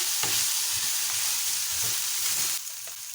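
Chicken filling with cumin powder and dry coriander being stirred in a hot pan, a steady sizzle with soft scraping strokes of a spoon, close and continuous.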